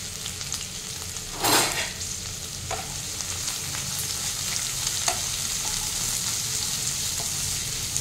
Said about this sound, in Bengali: কাঁচা লঙ্কাটা দিয়ে দিচ্ছি, রসুনটাও আমি দিয়ে দিলাম। এবার এটা ভালো করে ফ্রাই করে নেব।